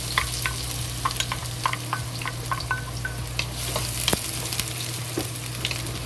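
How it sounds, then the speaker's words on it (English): Scallions frying in hot oil for a spring roll filling give a steady, close sizzle, with scattered crackles and soft stirring scrapes throughout, and no voices. "And slowly fry until scallion release good smell."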